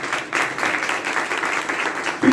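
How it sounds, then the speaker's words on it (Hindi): An audience at an International Day of Persons with Disabilities celebration claps for the teachers, a dense, steady patter of many hands from across the room with no break. "हमारे जो टीचर्स हैं उनके लिए भरपूर तालियां होनी चाहिए"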